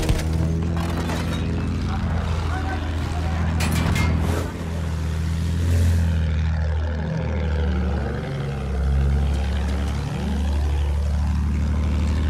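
An attack plane in Battlefield 1 flies with a loud, steady propeller engine drone throughout, its pitch rising and falling as it banks and dives, with wavering whooshes of air rushing past.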